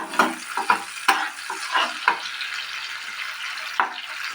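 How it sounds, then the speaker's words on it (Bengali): Mustard masala paste for bhetki fish sizzles and fries in a pan while a spoon stirs it, soft hissing under repeated scraping strokes, close up with no talk. "কিছুক্ষণ এই মশলাটাকে আমি কষবো"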